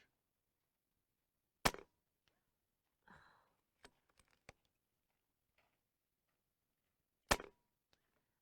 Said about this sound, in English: I figured I'd finish out the mag while you were talking.